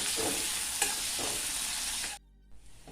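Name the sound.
onion frying in oil for Bengali fish curry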